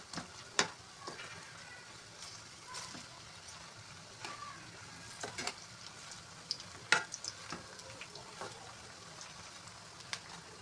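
Food sizzles quietly in a pan while being gently turned over, with scattered sharp clicks and scrapes from the utensil over a steady, faint frying hiss.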